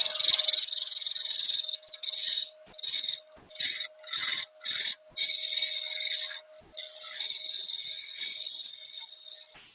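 Hand scraper cleaning the front edge of a ring on a workbench: rhythmic bursts of dry, raspy scraping, several short strokes followed by longer passes, close and clear with no talk.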